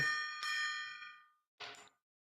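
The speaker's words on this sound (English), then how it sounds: "For who the bells toll." Two bell-like metallic strikes, the first ringing out and slowly fading, the second shorter and muffled, with no voices.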